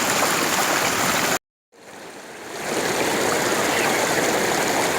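Water rushes strongly at Huay Chan waterfall in Sisaket as a dense, loud roar close by. It cuts out briefly for a moment, then fades back in and returns to full strength.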